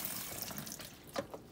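Tap water runs steadily into a sink while a large Thanksgiving turkey is rinsed clean, a continuous close splashing rush with a brief louder gush near the end and no voices.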